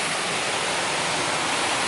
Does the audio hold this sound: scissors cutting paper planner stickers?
no